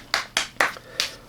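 Four crisp hand claps in a loose, uneven rhythm, close and clear with nothing else around them.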